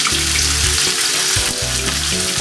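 Tomatoes sizzle and spit in a hot pan, a loud, dense crackle with short bubbling bursts of frying throughout, close and with no voices.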